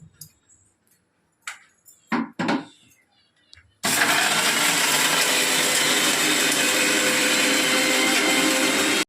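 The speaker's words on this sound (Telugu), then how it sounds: "సరే ఇది మిక్సీ పట్టేస్తాను." A mixer grinder pulverises onions into a paste for a fish curry gravy; a few soft kitchen clatters give way to an abrupt, loud, steady whirring roar that runs unbroken to the end.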